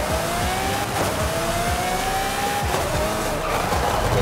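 A Lamborghini Murcielago LP6 with an LB body kit, racing in Forza Horizon 5, brakes hard into a corner with a loud, sustained tire squeal over its revving engine, and no one speaks.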